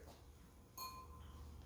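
A drinking glass is struck once, giving a single bright clink that rings out with a clear decaying tone and a fainter second ping after it, set against quiet room noise.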